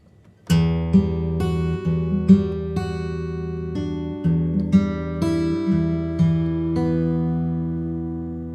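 Guitar strings picked one after another in a slow repeating pattern, each note ringing out and overlapping the next, clear and close with no voices.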